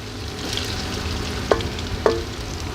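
Four large finely chopped onions sizzle in a pan while cooking a spiny gourd dish, a steady frying hiss with a few sharp clinks of a spoon against the pan and no talking.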